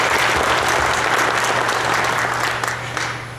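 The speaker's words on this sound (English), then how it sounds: "our regional coordinator that's been our guy for a few years needs a round of applause too as well" Audience applause at an IPMS San Diego 2018 gathering, a loud, full burst of clapping from a room of people that holds steady, then tapers off toward the end over a low hum.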